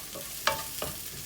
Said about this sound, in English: I really love the smell of onions when they're cooking.